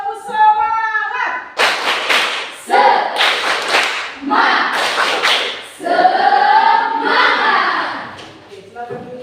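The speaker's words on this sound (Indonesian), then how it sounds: "Sekali lagi. Tepuk semangat." Classroom group repeats a rhythmic spirit clap, several loud bursts of unison hand clapping interleaved with chanted voices, close and energetic.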